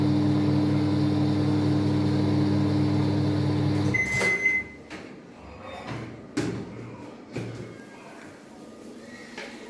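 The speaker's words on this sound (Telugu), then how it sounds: "మైక్రోవేవ్" A Samsung microwave oven runs with a steady low hum for about four seconds before stopping. Clicks, a bright beep and door or cupboard knocks follow at close range.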